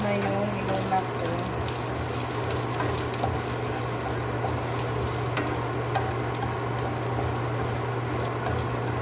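Garlic fries in a pan for adobong sitaw, a soft steady sizzle with faint stirring scrapes over a constant low hum.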